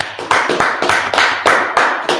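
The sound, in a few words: congregation clapping hands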